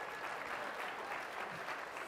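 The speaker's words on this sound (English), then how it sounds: "give the people who sat down a big round of applause for standing up for education" Audience applause at an education fundraiser, a steady wash of many hands clapping together, faint and distant-sounding, with no break over the short stretch.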